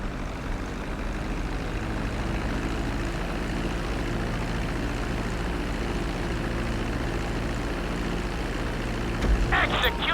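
An airplane in Grand Theft Auto 5 decelerates toward a runway landing, a steady loud engine drone filling the whole stretch with a brief rattle near the end, no talk.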